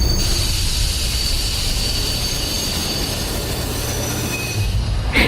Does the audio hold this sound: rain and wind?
no